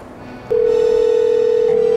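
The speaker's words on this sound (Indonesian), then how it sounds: "Telepon Payono kali ya?" A mobile phone starts a steady, loud electronic tone that holds unbroken after a brief quiet start, with no talk over it.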